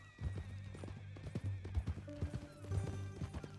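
Horse in Red Dead Redemption 2 clops its hooves in an irregular close rhythm, then lets out a drawn-out whinny partway through, fairly faint overall.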